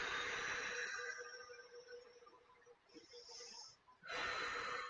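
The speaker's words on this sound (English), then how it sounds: "Take a couple of breaths here." Deep, slow breaths during a yoga stretch, long airy inhales and exhales drawn in and out in two or three waves, fairly close and alone with no talking.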